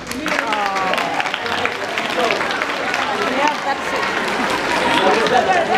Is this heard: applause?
yes